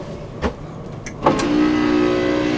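Motorized TV lift raising a 32-inch Alphatronics television inside a 2021 Hymer B ML I 780 fully integrated Mercedes motorhome: a brief click, then a steady, fairly quiet electric motor whir that runs on until the end.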